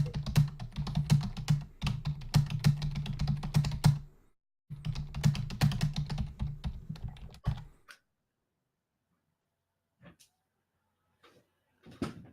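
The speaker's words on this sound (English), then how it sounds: "Your typing is dangerously loud." Rapid, loud clatter of typing on a computer keyboard, close to the microphone, in two dense bursts separated by a short pause, then near silence with a few isolated faint clicks.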